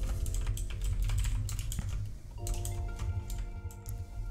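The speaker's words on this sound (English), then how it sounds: "I'm just going to type Linux." Computer keyboard typing, a steady run of quick key clicks with short pauses, close and fairly loud, with a low hum underneath.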